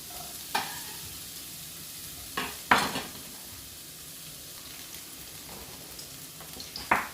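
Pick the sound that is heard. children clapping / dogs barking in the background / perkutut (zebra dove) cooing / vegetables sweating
vegetables sweating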